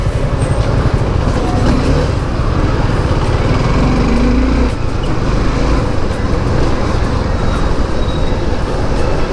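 Steady, loud engine drone from a car crawling through a city traffic jam on a national highway in Aizawl, Mizoram, with road and traffic noise around it and no speech.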